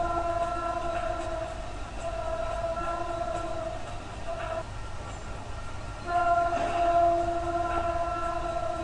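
A moving train rolls past in Sunnyvale, California, a steady rumbling wash with sustained tonal whine and a swell of louder rail noise near the end, with no voices.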